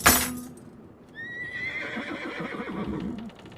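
A horse in a video game gives a loud, sharp whinny right at the start, followed by hoof clip-clops and a trailing, whistly tonal effect, all with no talk.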